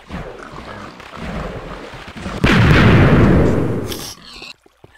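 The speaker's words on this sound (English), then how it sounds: "when the TNT cannon went off" A TNT cannon in Minecraft goes off with one loud, close blast that roars and rumbles for over a second before cutting out, after quieter shuffling sounds.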